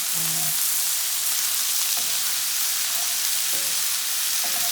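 Mushrooms frying in a pan for a zucchini boat filling, giving a steady, loud broadband sizzle up close, with a few faint tonal blips in the background.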